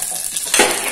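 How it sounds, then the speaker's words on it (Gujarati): Mustard seeds, cumin and asafoetida hit hot oil for a tempering, giving a brief close hiss that bursts into a louder sizzle and crackle halfway through. "તો હવે આપણે નાખશું રાઈ, જીરું, હિંગનો કરશું વઘાર"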